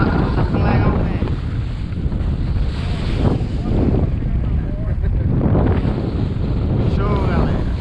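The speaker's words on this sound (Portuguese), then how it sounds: "O vento tá ficando legal, pessoal." Strong sea wind buffets a small 7.9-metre artisanal fishing boat on the open sea, a loud, continuous roaring gust noise that fills the whole stretch with only slight swells, and brief voice fragments are barely audible.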